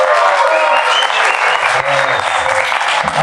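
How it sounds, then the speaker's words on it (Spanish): Audience applause greets the director at the opening of a public dialogue on hydrocarbons, mining and extractivism: steady, dense clapping from a crowd, loud and sustained throughout, with no speech over it. "Un aplauso para él."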